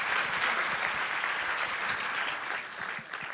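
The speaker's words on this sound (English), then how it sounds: "a great round of applause for Suleiman and Adam" An audience at a startup demo day applauds with a steady wash of clapping that holds for a few seconds before tapering slightly.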